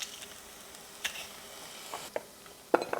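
Garlic hits a hot pan for turkey chili and sizzles softly, a faint steady frying hiss broken by a few sharp clicks and pops, the loudest near the end.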